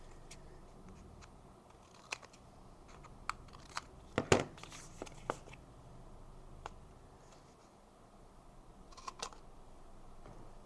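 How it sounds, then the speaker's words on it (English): Scissors trim a paper Christmas tag, quiet scattered snips and clicks with one louder cluster of cuts near the middle, then more faint snipping toward the end. "I'm going to go ahead and trim up my tag."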